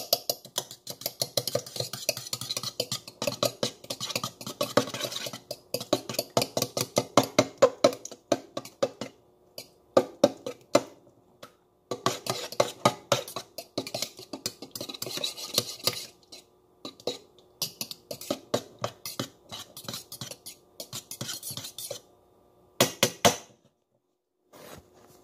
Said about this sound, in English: you get you a fork. And you whisk it up.